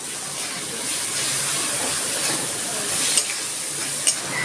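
Ginger and garlic masala with a splash of water fries in a pan for chicken, giving a loud, steady hiss and sizzle with a couple of light clinks, close up and without speech.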